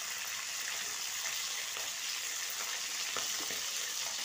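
Mutton frying in mustard oil for a Kashmiri rogan josh, giving a constant, fairly soft hiss of sizzling fat with a few faint stirring scrapes, and no voices.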